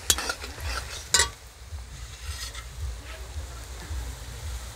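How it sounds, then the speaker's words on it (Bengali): Large chunks of goat mutton sizzle in plenty of oil with browned onions in a pan. A utensil stirs and scrapes them, with two sharp clinks near the start over a steady, close frying hiss. "এখন আমি মাংসগুলো পেঁয়াজের সাথে ভেজে নেব।"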